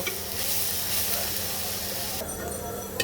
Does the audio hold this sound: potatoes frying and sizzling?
yes